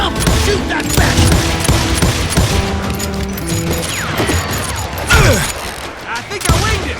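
Gunfire from the Western shooter Call of Juarez Gunslinger, a dense fusillade of loud shots and impacts with game music and effects running continuously, including a heavy burst near the five-second mark.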